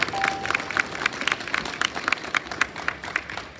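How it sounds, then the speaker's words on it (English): A graduation audience gives a steady round of applause of many hands clapping, with light crowd murmur and a few faint voices underneath. "Submit a round of applause."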